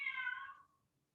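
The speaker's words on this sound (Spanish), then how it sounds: "que mi gatita está llorando" A pet kitten gives a single clear meow close by, which trails off into quiet.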